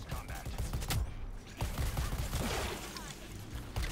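Gunfire in the Suicide Squad: Kill the Justice League video game, a rapid stream of game shots and impacts layered with busy combat effects, steady and loud throughout.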